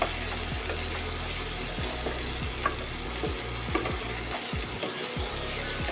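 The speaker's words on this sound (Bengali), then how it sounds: "লাউটাকে একটু ভালো করে ভেজে নিতে হবে।" Pieces of bottle gourd fry steadily in hot mustard oil with a constant close sizzle, broken now and then by small clicks of a utensil against the pan, and no one speaking.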